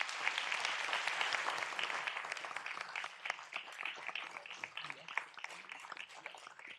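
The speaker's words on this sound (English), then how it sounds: "Can we give the Black Chamber a round of applause?" Audience applause at a city council meeting in Fort Worth, a fairly quiet room of many hands clapping steadily, denser at first and then loosening into more scattered claps.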